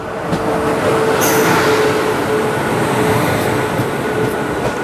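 Rajya Rani Express rolls into the loop line at Ranjani station, heard from a 3 AC coach as a loud, steady rumble with faint wheel squeal and soft clatter throughout.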